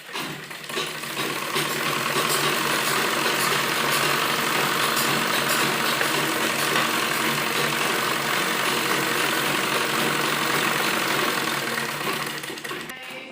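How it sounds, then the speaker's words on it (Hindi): Sewing machine running continuously while stitching a baby umbrella frock, a steady close mechanical whir that starts up, holds for most of the stretch, then slows to a stop, with no voices. "और उसके बाद फिर इसको इस तरह पलटेंगे और एक दबे में सिलाई इसको लगा देंगे।"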